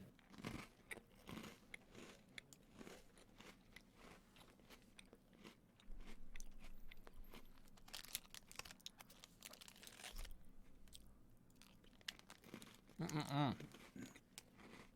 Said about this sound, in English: I have some Oreos now.